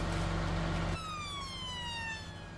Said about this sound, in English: There goes the police car again.